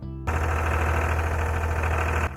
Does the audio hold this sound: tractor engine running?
yes